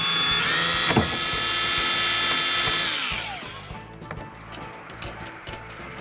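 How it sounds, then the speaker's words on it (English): A power drill bores holes at either end of car dashboard vent slot covers, giving a loud, steady high whine for about three seconds before it winds down, followed by quieter handling clicks. "all I need to do is drill either end."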